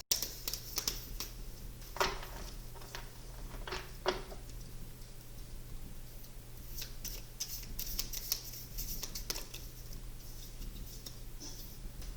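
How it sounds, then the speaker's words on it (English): A deck of playing cards is shuffled close up, with soft flicks and riffling bursts of crisp clicking, busiest near the end. No one speaks. "I'm just going to shuffle the whole deck, I guess, for you,"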